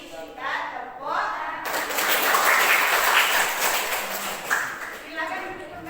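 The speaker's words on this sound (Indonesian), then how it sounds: "Mari kita tepuk." A class of young pupils clapping hands together in a classroom, a brief patter that swells into steady group clapping and then fades, with voices heard at the start.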